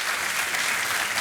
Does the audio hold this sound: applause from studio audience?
yes